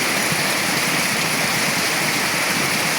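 Heavy, steady rain pouring during a typhoon in Mindanao, a dense, loud and unbroken hiss with no gusts or voices.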